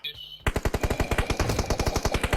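Machine gun fire in a video game: a loud, close, rapid burst of evenly spaced shots that starts abruptly after a brief quiet lead-in and continues steadily to the end.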